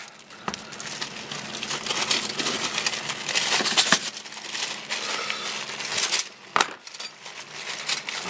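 A bag of flatware is cut open, and sterling silver cutlery rattles and clinks in irregular bursts against crinkling plastic, close and moderately loud with sharp metallic clatters scattered throughout.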